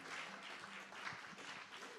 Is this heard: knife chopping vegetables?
no